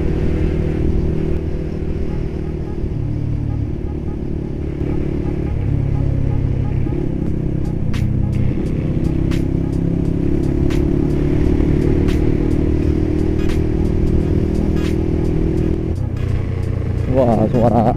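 A Kawasaki ZX6R sport motorcycle rumbles and revs nearby on a group ride, its engine note rising and shifting under loud wind noise and overlapping voices talking, with a brief clatter at the end.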